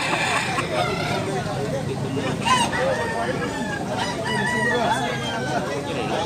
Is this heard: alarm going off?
no